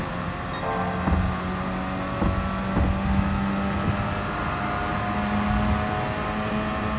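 A race car in Gran Turismo 7 drones with a steady engine note, blipping briefly as it downshifts into third for the penultimate corner, then holding a smooth, even pitch.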